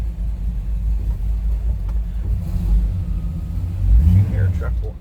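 Under a voice, a 1959 Ford F100 street rod engine idles with a low, steady, smooth rumble that swells slightly near the end.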